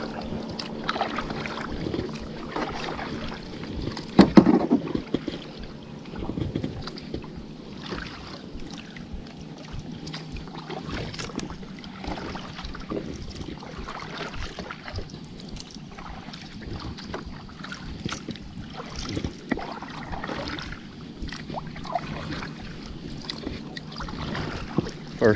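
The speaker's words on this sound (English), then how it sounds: "first time on a kayak" A cheap, rocky fishing kayak is paddled across water, with soft irregular splashes and drips under light wind buffeting on the microphone and one brief louder knock partway through.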